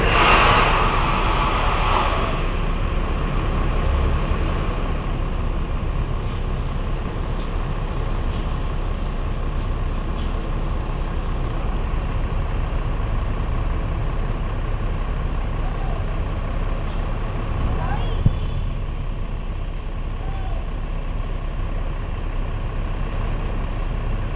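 A long-distance PO Adhi Prima coach bus pulling away from a busy ticket depot bound for Bekasi, a steady low engine rumble throughout with a brief sharper burst near the start and faint background noise.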